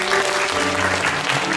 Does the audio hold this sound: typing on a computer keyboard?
no